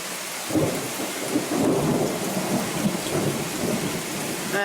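Steady heavy rain on open ground around a horse paddock with a deep rolling thunder rumble underneath, continuous and fairly loud with no voices.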